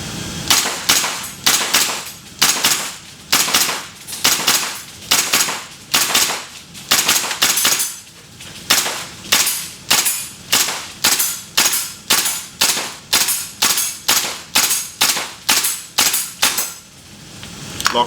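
A KWA M4 gas blowback airsoft rifle fires in semi-auto, giving sharp, loud, close cracks, about thirty in a steady, fairly quick rhythm, with brief pauses between some shots.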